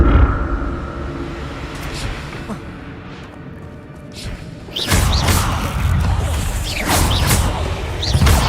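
Accio summoning spell cast in the Hogwarts Legacy video game: broad, bright whooshing bursts that swell suddenly over a steady game ambience, with a second surge a couple of seconds later.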